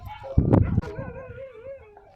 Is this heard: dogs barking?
yes